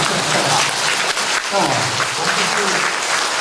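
A church congregation breaks into loud, sustained applause filling the room, with a voice calling out over the clapping.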